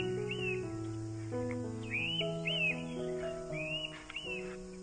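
Birdsong at dawn in a Konkan forest at the foot of the Sahyadri hills, with several birds calling and whistling in overlapping phrases, fairly near and steady, over a sustained tonal drone, with no talking.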